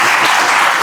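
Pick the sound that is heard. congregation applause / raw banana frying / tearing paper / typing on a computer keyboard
congregation applause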